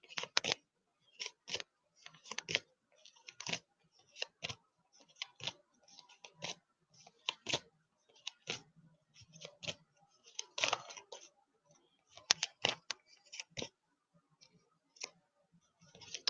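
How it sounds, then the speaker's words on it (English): Tarot cards being shuffled by hand, a close, quiet series of irregular crisp snaps and riffles in uneven bursts, with silence between them. "Still telling me to shuffle, so every day I'm shuffling."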